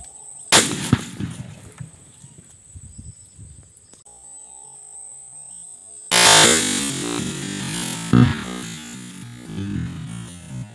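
A firecracker bursts inside a coconut shell during a Diwali experiment: a sharp blast near the start, a quiet stretch, then a louder, longer explosive burst with scattering debris and a further thump.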